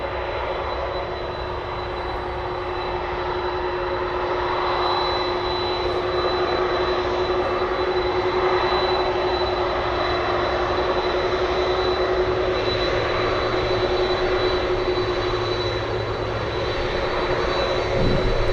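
Jet engines of a Boeing 747 Dreamlifter at Anchorage airport hold a steady, loud roar throughout, with a constant broadband rumble and a sustained tonal whine and no voices.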